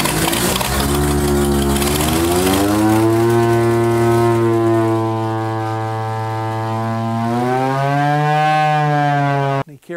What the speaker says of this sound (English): We're going to start this engine.